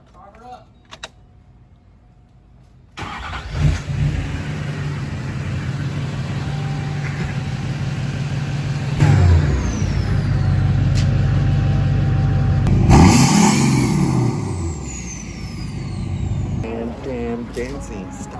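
A Duramax diesel pickup with an MBRP exhaust cranks over and settles into a steady loud idle, rising into a couple of revs partway through, with keys jangling early on and people talking over the running engine.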